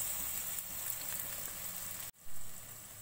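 Two large sliced onions hiss and sizzle in hot oil with a steady, close frying crackle that cuts out briefly near the end, then resumes.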